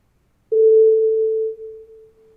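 A synthesized sine tone with reverb starts abruptly and holds as one steady, pure pitch for about two seconds, slowly fading with a reverberant tail. It plays alone with no voices.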